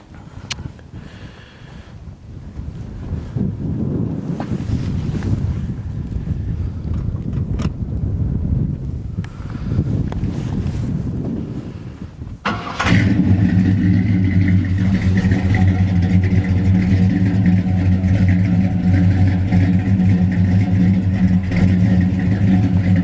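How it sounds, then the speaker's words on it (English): A 1955 Chevrolet Bel Air hardtop in all-original condition sits for several seconds of wind noise and light clatter. Then its engine starts abruptly and settles into a loud, steady, droning idle close to the microphone with no talking. "I'm gonna fire it up for you."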